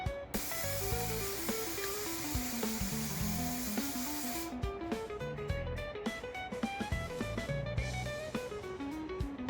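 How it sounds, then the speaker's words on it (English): A steady hiss of a spray gun applying sanding sealer to a Stratocaster-style guitar body runs for several seconds, then continues in shorter bursts with clicking and mechanical rattles mixed in. "now it's time to spray it with sanding sealer"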